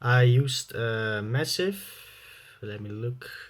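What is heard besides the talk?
None of the usual background noises is heard.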